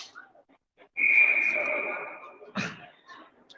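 A referee blows a single long whistle blast at a girls' U15 district soccer game, sustained for about a second, with faint crowd noise and a short sharp knock afterward.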